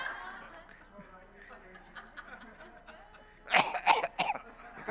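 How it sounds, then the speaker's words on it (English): A quick cluster of throat-clearing coughs near the end, after several seconds of quiet murmuring and rustle in a room. "that's just a clear my throat cough"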